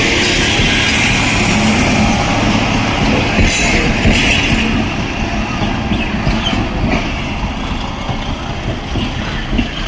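A train locomotive throttles up at Golra Railway Station. A loud, dense engine rumble holds steady throughout, with a few faint metallic clinks.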